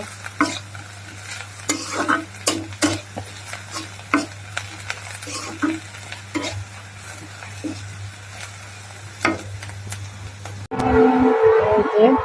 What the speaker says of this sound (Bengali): ঝটপট পরোটাগুলো এখন আমি ভেজে নেবো